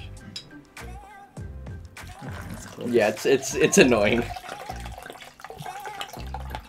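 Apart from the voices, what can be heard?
pouring G Fuel drink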